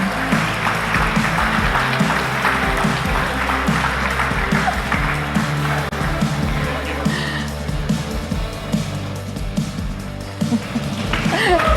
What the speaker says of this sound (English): Let's give it up. A big applause.